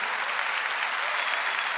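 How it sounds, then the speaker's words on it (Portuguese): Dense, steady applause from a large audience at a religious talk, a continuous wash of many hands clapping at once, moderately loud and even throughout, with no voices standing out. "você pode aplaudir essa verdade"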